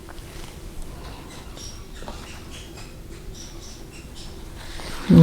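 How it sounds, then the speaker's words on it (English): A squeaky dog toy chewed by a puppy in a background room gives short, high squeaks scattered across a few seconds over steady room noise. "You may hear a squeaky toy in the background that somebody's playing with a puppy."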